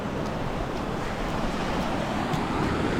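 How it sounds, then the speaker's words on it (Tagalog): Ocean waves wash steadily against the shore, heard as a loud, continuous roar mixed with wind buffeting the microphone, with no voices. "nandito tayo sa ocean ay dagat ba to or karagatan"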